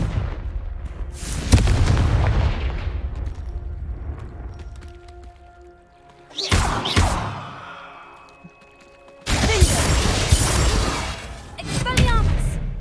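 Confringo fire curse blasts in the video game Hogwarts Legacy, several booming explosive bursts spread across the clip with rumbling decays and game effects between them, loud and close.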